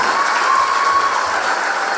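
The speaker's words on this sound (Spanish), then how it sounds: "Aplauso fuerte para los primer ministro de Kosovo, Luis Arce." Loud applause at a school year opening ceremony, steady clapping from a large audience throughout.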